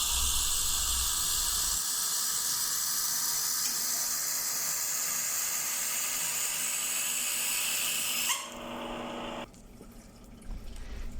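Hot water gushes steadily from a tap in a ship's pantry as water is drawn for black tea, a loud continuous hissing stream that cuts off near the end, leaving quieter room noise and faint clatter.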